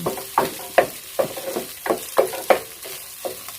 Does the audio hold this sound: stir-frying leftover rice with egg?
yes